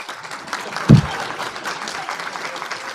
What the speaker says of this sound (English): Let's give a round of applause to the foundation members who are able to join us today